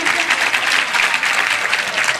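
An audience at a mushaira poetry recital in Kalamnuri breaks into loud applause, a thick, continuous burst of many hands clapping at close range.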